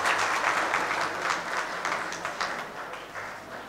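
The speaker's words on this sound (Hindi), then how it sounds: "आप ज़ोरदार तालियों में इस्तकबाल करें" Audience at a mushaira in Gorakhpur applauding to welcome poet Shabina Adeeb, dense continuous clapping from a large crowd, loud and steady throughout, gradually easing.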